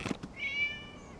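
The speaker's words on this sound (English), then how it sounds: "It was just a cat." A cat meows once in a video game, a clear, drawn-out, high-pitched cry with a falling tail, heard close and alone after a couple of brief soft knocks.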